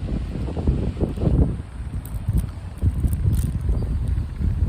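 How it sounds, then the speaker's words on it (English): Low rumbling gusts of wind buffet the microphone, rising and falling unevenly across the whole stretch with no voices. "Oh, it's windy."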